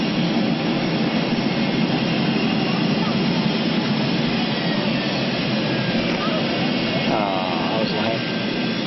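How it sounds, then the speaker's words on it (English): Aircraft engines revving during a trip near Hoover Dam: a loud, steady, broadband jet roar that holds constant throughout, with no talk heard over it. "revving the engines"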